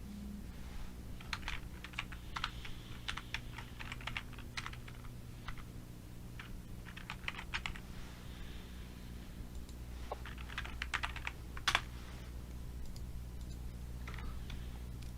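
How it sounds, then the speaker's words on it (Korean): Rapid keyboard typing in bursts of clicks, fairly close, with short pauses between runs and a low steady hum underneath. "마지막으로 엔터까지 누르시면 되겠습니다. 키보드에 있는 엔터요."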